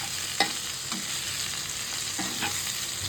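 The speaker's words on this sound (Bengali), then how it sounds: "এদিকে পেঁয়াজ কেটে নিয়েছি। এইটা একটু সুন্দর করে লাল লাল করে ভাজা হবে" Chopped onions fry in oil in a pan, giving a steady, close sizzle with a few soft stirring scrapes and clicks and no voices, cooked as part of a biryani.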